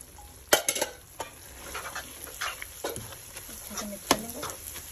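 Egg halwa with coconut, almonds and pistachios stirred in a pan, giving repeated scraping and clattering strokes with a soft sizzle underneath and brief sharp knocks of utensil against pan.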